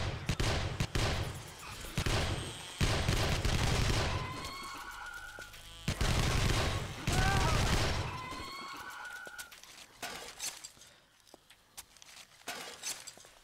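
An SMG in 7 Days To Die fires rapid bursts in several separate volleys during home defence, loud and close, with sharp impact and breaking sounds between them and quieter action at the end.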